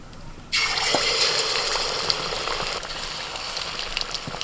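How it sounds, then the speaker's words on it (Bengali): Batter-dipped baby corn dropped into hot oil, bursting into a loud, steady sizzle that starts abruptly and continues with crackling pops, close by. "এই ব্যাটারে ডুবিয়ে এবার গরম তেলে ছেড়ে দেবো"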